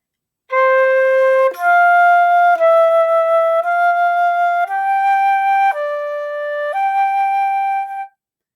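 A beginning band wind instrument plays two measures of sustained slurred notes, changing pitch smoothly without breaks, clear and close, with no talking.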